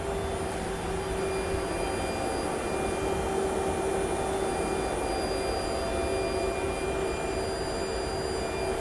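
MAN diesel engines drone steadily inside the lit engine room of a Majesty 111 superyacht, a loud continuous mechanical roar with sustained tonal whine, close and unbroken throughout.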